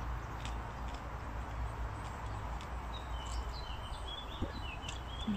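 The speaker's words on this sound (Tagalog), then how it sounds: "may huni pa ng ibon, di ba?" Faint, scattered bird chirps sound in the distance outdoors in Norway, light and intermittent above a steady low rumble of background noise.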